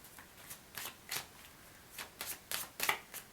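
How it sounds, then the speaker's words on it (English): A deck of chakra oracle cards being shuffled by hand, a series of crisp, close riffling bursts in an uneven rhythm, quiet and alone with no talk. "So I'm just going to shuffle whichever one wants to come out."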